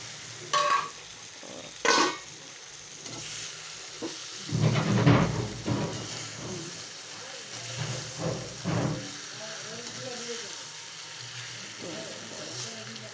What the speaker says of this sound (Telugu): ఇప్పుడు ముక్కలు కూడా వేస్తున్నానండి